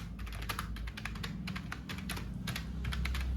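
Someone types on a computer keyboard while entering text in a LibreOffice Writer document, producing quick irregular key clicks close up over a low steady hum.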